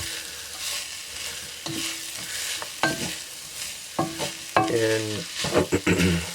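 Garlic sizzles in a pan for hamburger gravy, a steady frying hiss broken by several sharp scraping and stirring clatters of a utensil against the pan, close and fairly loud.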